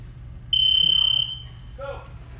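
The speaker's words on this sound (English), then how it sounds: "On the buzzer." A single electronic buzzer blares one steady high-pitched tone for under a second to start a wrestling bout, loud and close, followed by a brief voice afterward.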